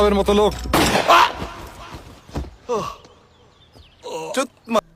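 A single sharp pistol shot, fired point-blank into a man's chest, bursts out among voices and gasps before quieter talk resumes.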